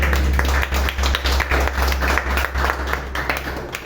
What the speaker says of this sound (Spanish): Damos fuertes aplausos a Cristo.